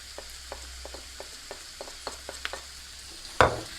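Vegetables stew in a pan while chili pepper is added, a soft steady simmer under light scattered taps and scrapes of a utensil, ending in a sharper louder clatter.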